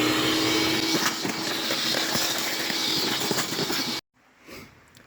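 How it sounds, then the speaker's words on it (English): A vacuum cleaner runs steadily while sucking debris out of a car's cowl box, with rattling pickup noises under a continuous broadband whine, then cuts off abruptly near the end, leaving brief quieter handling noise. "you want to make sure you vacuum everything out, especially down in the box"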